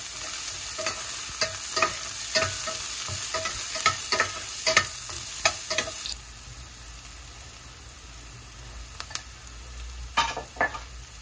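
Cherry chillies with chopped onion and garlic frying in a pan, a constant close sizzle punctuated by repeated sharp stirring clicks and scrapes, the frying briefly quieting midway before more utensil knocks.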